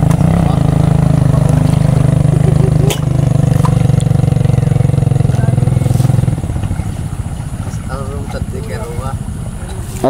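An engine runs with a loud, continuous throbbing drone, then drops to a lower, rougher idle partway through, while people talk nearby.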